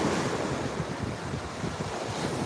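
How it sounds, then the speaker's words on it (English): Atlantic Ocean surf washing onto an east coast beach, a steady broadband roar of breaking waves mixed with gusting wind buffeting the microphone, continuous and fairly loud with no voices. "That's the Atlantic Ocean right there."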